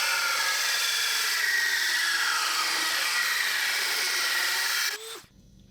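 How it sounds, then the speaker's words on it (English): A power drill bores a pilot hole through the wall of a box van, a steady loud whine running continuously for about five seconds before cutting off abruptly, with no talking. "I'll have to drill a pilot hole in there."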